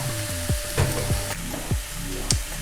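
Cooked minced meat filling for Turkish gözleme sizzles and crackles in a pan, a low steady fry broken by a few sharp stirring scrapes and taps, close and moderately quiet with no talking.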